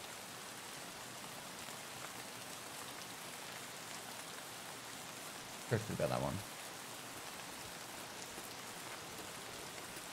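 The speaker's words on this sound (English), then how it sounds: "In the meantime, you get soothing rain." Steady rain pours across a wet surface in Escape from Tarkov, a continuous hiss throughout, with a brief louder burst midway and a voice speaking over it.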